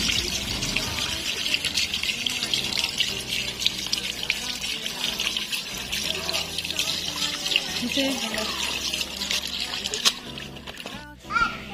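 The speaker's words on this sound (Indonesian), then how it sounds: "Oke, kita akan mencuci dulu dengan air bersih, dengan air mengalir." Tap water runs steadily while an aglaonema plant is washed by hand, with splashing and spatter close by and people talking over the flow throughout.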